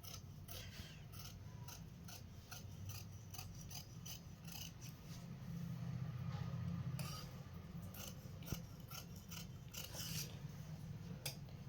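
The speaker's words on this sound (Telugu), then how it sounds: "ఇప్పుడు మనం కటింగ్ చేసుకుందాం." Scissors cut through blouse lining fabric in a run of crisp, rhythmic snips and rasping slides over a steady low room hum, fairly close with no talk.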